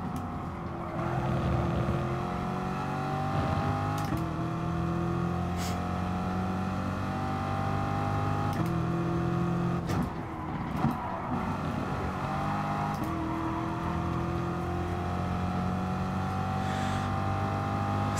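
A race car engine at full throttle in Gran Turismo Sport on a circuit, a loud continuous high drone that holds near-constant pitch with brief shifts and dips, with no voices.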